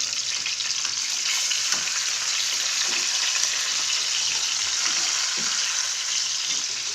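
Pork chops sizzle and fry steadily in a hot pan after being flipped, a dense, continuous crackle up close with a few soft clinks and stirring sounds underneath.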